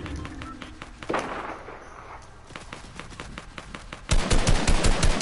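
Video game gunfire in an arena mode, with scattered shots building into a loud rapid burst of automatic fire at the end, close and sharp.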